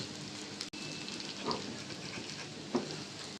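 Shrimp fritters made from ground shrimp, rice and lentils fry in hot oil with a soft, steady crackling sizzle, fairly quiet and close, with a couple of light clinks.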